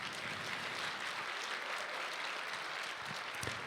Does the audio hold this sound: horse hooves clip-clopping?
no